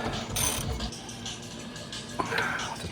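A ratchet tightens a coilover mounting bolt on an NA Miata, with quick close mechanical clicks and a short burst of rattling metal in a garage.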